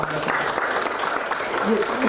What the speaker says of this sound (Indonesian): mari warga jemaat tepuk tangan